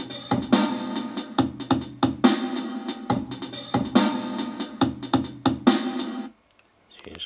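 A drum beat programmed in the Pocketband Pro app, with bass drum and a snare given extra effect, plays a steady busy pattern of hits for about six seconds, then stops abruptly.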